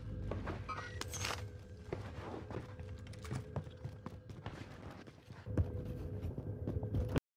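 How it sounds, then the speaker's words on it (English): Footsteps thud across a wooden floor in a video game, a series of irregular, fairly distinct knocks that carry on throughout, with no talking heard. "If you listen closely, you heard the footsteps again, and it steps on a wooden floor."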